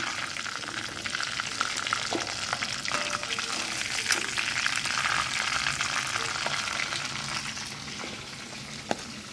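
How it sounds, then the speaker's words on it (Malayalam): Chicken pieces deep frying in oil over a low flame, a continuous dense bubbling sizzle, close and even, with faint utensil taps and a sharp clink near the end. "നമുക്ക് ലോ ഫ്ലെയിമിൽ വെച്ച് ഫ്രൈ ചെയ്തെടുക്കാം"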